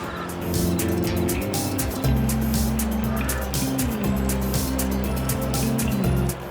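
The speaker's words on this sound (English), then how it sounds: "This tractor is really, really weak." A weak tractor in Farming Simulator 25 labours uphill on an Alpine tea farm, its low engine drone grinding steadily and loudly with stepped pitch shifts, under a rattling, noisy background.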